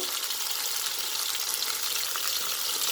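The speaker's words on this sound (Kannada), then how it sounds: "ಟೊಮಾಟೊ ಸ್ವಲ್ಪ ಫ್ರೈ ಆಗಬೇಕು." Tomatoes frying in a pan while upma is cooked, giving a steady, dense sizzle that holds evenly throughout, close and fairly loud with no voices.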